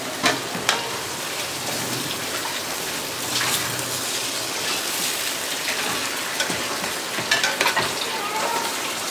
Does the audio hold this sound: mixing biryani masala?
yes